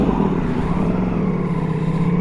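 A Ducati Multistrada V4S motorcycle engine runs close by, a loud, steady low rumble that holds an even pitch for the whole short stretch.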